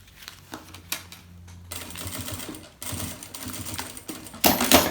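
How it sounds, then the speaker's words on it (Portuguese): A sewing machine stitches a bag lining seam along the edge, with a rapid mechanical whir that starts and stops in a few bursts, close and moderately loud. "passa aqui a costura na beiradinha"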